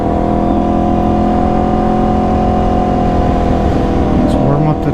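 An Aprilia RSV4 motorcycle engine runs close by with a loud, steady droning note and a firm low rumble, holding fairly even over five seconds rather than climbing sharply.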